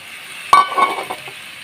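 Baim fish hits hot, well-fried masala in a pan with a sudden sharp sizzle and clink, then a short burst of frying hiss and faint scraping as it settles.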